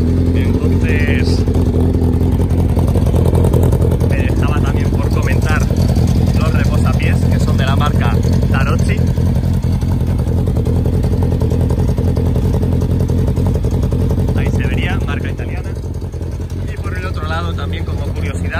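Engine of a custom cafe racer style motorcycle idling steadily and loudly up close, with a rough, continuous rumble and occasional mechanical clatter.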